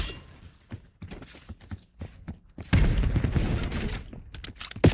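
Rapid hip-fired gunfire in a Call of Duty match, a scatter of sharp shots early on swelling into a loud sustained burst of automatic fire in the second half, close and dominant with no talk.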